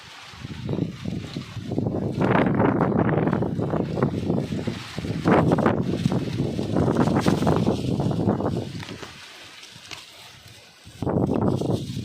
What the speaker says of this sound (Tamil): சரியான காற்று காற்றுல நம்ம வந்து பழம் பொறுக்கவே முடியல அந்தளவுக்கு ஒரு காற்று